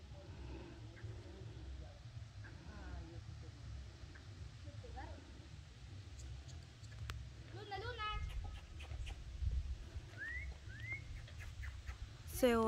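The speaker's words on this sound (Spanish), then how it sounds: "Se oye el trinar de los pajaritos y el aire que golpea las hojas de los árboles" Small birds chirp and trill intermittently in the distance by a river in Sonora, Mexico, over a low rumbling background of wind in tree leaves, with a few brief whistled phrases.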